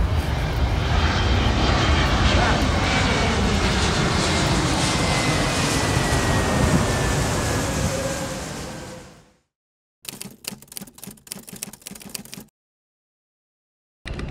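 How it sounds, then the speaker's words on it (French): Near Los Angeles, a loud, steady roar of a passing airplane fills most of the stretch, then cuts off and is followed by shorter bursts of rumbling noise. "Il y a des avions de partout."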